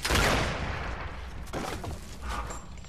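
Gunfire in Gears of War 2 Horde mode, a loud burst of shots at the start followed by several further cracks and booms, with no voices over them.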